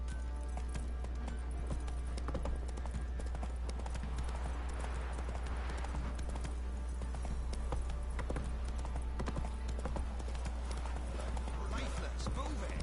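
Roach, the horse in The Witcher 3, trots with a steady, continuous clip-clop of hooves under ongoing voices and game ambience.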